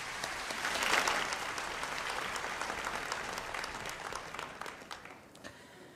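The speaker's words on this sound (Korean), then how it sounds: "우리 하나님께 우리 다시 한번 큰 영광의 박수 올려드리겠습니다" Church congregation applauding during a dawn worship service, broad clapping swelling early then gradually thinning and fading toward the end, no voices over it.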